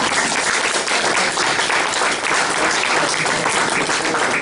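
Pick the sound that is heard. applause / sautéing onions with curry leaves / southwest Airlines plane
applause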